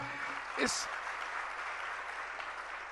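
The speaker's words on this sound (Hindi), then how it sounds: "एक बार तालियां बजाइएगा।" Audience at a Jain religious discourse session in Agra claps together, a soft, even wash of applause with a short voiced exclamation near the start.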